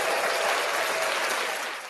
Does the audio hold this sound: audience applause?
yes